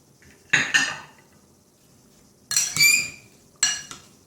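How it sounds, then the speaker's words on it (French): A metal utensil clinks and scrapes against a bowl while pineapple, strawberries and apples are mixed, three separate bursts of clattering with quiet gaps between. "je vais mélanger les fruits comme ça"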